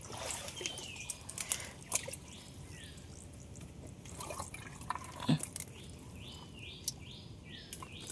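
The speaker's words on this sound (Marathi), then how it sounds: "आवाज आलो पाण्याचो" Water trickles and drips steadily nearby in a quiet outdoor setting on the Konkan coast, with faint birdsong in the background.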